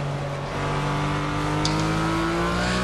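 A RUF CTR3 race car in the Project Cars racing game, on an Azure Coast circuit, holds a loud, steady engine drone throughout, with a brief tire chirp near the middle as it slides.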